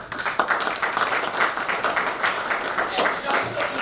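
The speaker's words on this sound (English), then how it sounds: "you all deserve a round of applause" A crowd applauds at a veterans procurement resource expo keynote, with dense, steady clapping that carries on for several seconds without a break.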